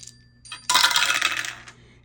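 Two colorful dice rolled on a hard surface, giving a short, bright clattering rattle that lasts about a second before settling, with no talking.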